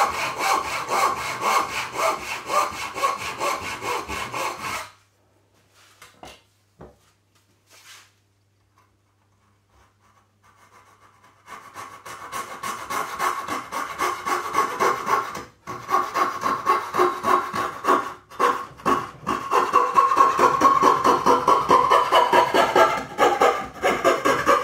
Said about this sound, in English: Blade in this coping saw, it's very, very coarse.